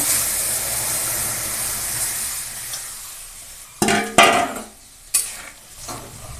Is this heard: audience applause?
no